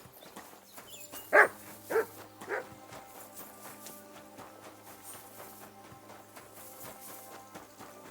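A dog barks in Kingdom Come: Deliverance II, three quick barks that fade in loudness over a steady game ambience, with quieter background tones continuing after.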